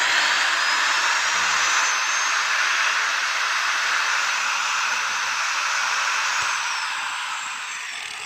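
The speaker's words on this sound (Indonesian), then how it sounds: "Kalau saya sambil ngomong ini kan gerindanya berisik jadi nggak kedengeran." An electric angle grinder runs steadily at high speed, a loud, continuous whine and roar close by that eases off slightly toward the end, with no voices.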